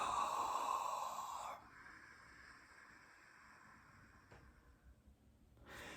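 Ujjayi yoga breathing through a closed mouth, a soft hissing throat exhalation heard close and faint, easing into a quieter, steadier breathy rush before another breath begins near the end.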